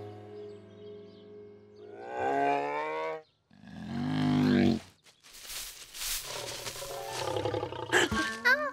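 A bear gives a series of deep, rumbling roars and growls, loud and close, rising and falling over several seconds, in a cartoon.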